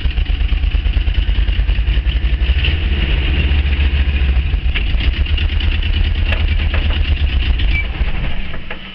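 A 1976 VW Camper engine runs steadily for the whole stretch, a loud, close, uneven air-cooled chug with a rattly mechanical clatter and no talking.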